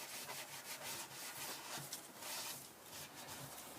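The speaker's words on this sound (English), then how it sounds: "just keep wiping until it's all rubbed in." Cloth rubs a shellac finish into carved wood wall art, a soft, faint, continuous scrubbing with rhythmic swishes and no voices.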